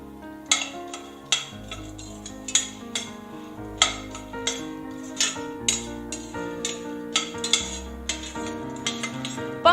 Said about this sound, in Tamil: லோ ஃப்ளேம்லயே வச்சுட்டு நம்ம வறுக்கும் போது அது சரியா வறுப்பட்டு நல்லா ரோஸ்ட் ஆகும் உங்களுக்கு